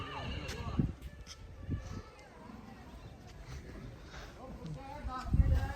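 A young horse whinnies nearby in a few short bursts amid outdoor background noise, with faint movement and shuffling sounds.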